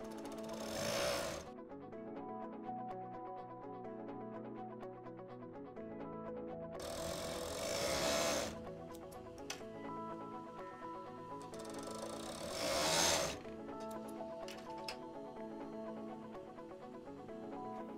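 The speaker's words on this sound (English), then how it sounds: "secure it down before you sew the side seams" A home sewing machine stitches the side seams of underwear in quick rhythmic bursts, with a steady mechanical rattle. Three louder whirring runs stand out at close range and there is no talking.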